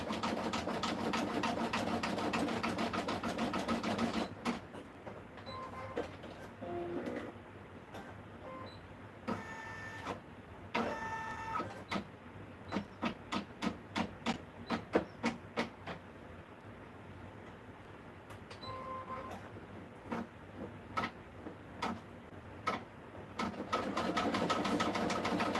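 A sewing machine stitches a craft project of a hat with icing decoration, running steadily before stopping, then resuming in short bursts of rapid needle clatter separated by pauses, close and moderately loud.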